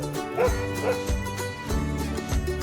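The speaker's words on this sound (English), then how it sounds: "There's a dog." Dog barking and yipping in a farm hay setting, several short bow-wow barks repeating at a steady rhythm over a light musical backing.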